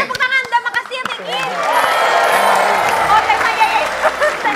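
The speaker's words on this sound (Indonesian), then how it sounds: "Tepuk tangan." Studio audience applause on an Indonesian TV comedy show, a swell of clapping and crowd noise building after some brief speech and carrying steadily to the end.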